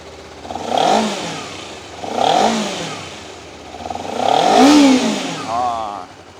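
A 2019 Honda CBR250RR motorcycle engine revs up three times in rising and falling bursts from a rumbling idle, fairly close and loud.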